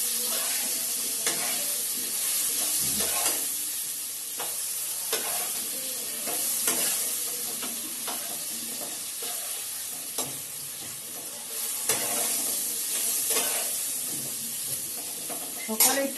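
Potatoes fry in a pan under a steady sizzle while a spoon or spatula scrapes and stirs them in irregular strokes, close and prominent throughout.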